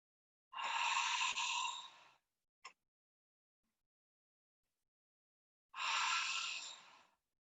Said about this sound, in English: As you're holding that breath, you're going to exhale.